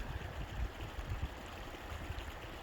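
Horse Creek, a shallow mountain stream, burbles and trickles steadily nearby, a soft, continuous wash of running water with no voices.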